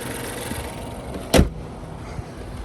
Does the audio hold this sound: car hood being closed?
yes